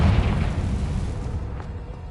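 A Confringo fire spell blast in the Hogwarts Legacy video game: a loud, deep, rumbling boom that fills the whole clip and slowly fades, with no voices.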